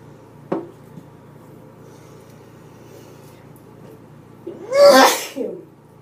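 A single loud, close sneeze bursts out near the end after quiet room tone, preceded by a brief tap.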